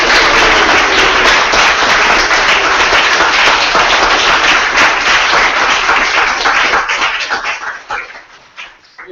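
Dense audience applause after a round of team pitches at a Startup Weekend event in Tokyo, a steady wash of many clapping hands that holds strong for about eight seconds before thinning out and fading.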